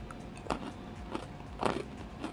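Freeze-dried Skittles candy being bitten and chewed close to the mic, a few sharp crunchy cracks at irregular intervals over a quiet background, with no speech.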